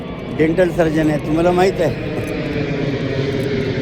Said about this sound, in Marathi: तो विमान जाते वरून, त्याचा आवाज आहे.